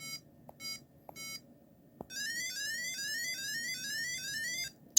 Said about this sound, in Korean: 여기 경광등 모양을 누르면 띠리리리링 소리가 나요